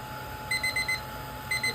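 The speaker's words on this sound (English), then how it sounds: "There's my timer." A kitchen timer alarm goes off in a quiet room, sounding as two short bursts of rapid repeated high beeps, clear and steady against a low background hum, with no talking.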